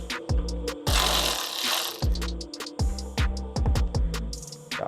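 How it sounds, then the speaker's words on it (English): A 13mm socket on an extension ratchets out muffler bracket bolts under a Dodge Challenger, giving close, repeated metallic clicks and clunks in quick irregular bursts, with one longer rasping stretch. "Now let's grab our 13 with an extension and get this muffler bracket off."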